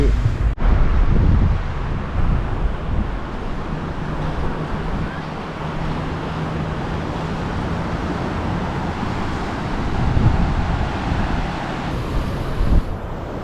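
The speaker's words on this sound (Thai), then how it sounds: "ลมเย็นเลยอ่ะ" Wind blows hard on the shore at Cha-am beach in Thailand, a continuous rough rush with gusty swells and a faint background of surf.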